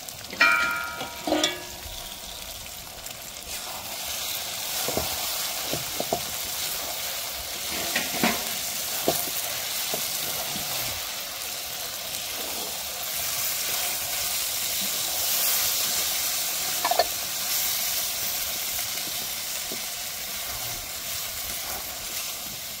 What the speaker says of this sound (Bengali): এবার আমরা ভেজে রাখা আলুগুলোকে দিয়ে দিব, মশলার সাথে আর একটু যাতে ভালো করে মেশে, সেই জন্য। এবার একটু আমরা নাড়িয়ে নেব।